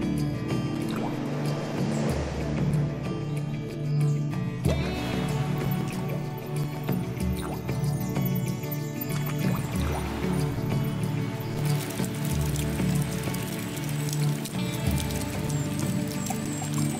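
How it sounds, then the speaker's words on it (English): Huge raindrops fall through a rainforest, a steady wet patter of drips and splashes on leaves that carries on without pause throughout. "For creatures as small as insects, the huge raindrops can be lethal."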